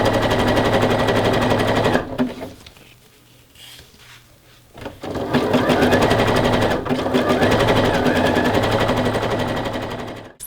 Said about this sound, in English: then you're going to top stitch along the top of the elastic.